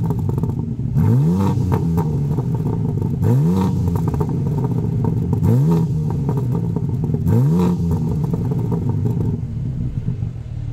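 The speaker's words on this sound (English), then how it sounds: "Let's hear what this exhaust sounds like." A 2025 BMW M4 Competition Cabriolet's exhaust is revved four times in a row, each blip rising sharply and falling back to a rumbling idle, close and loud.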